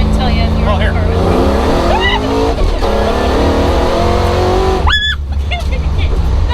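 A supercharged Chevy Nova accelerates hard on a back road, the loud engine climbing through several sweeping pitch rises, with a brief sharp squeal near the end and voices talking inside the car.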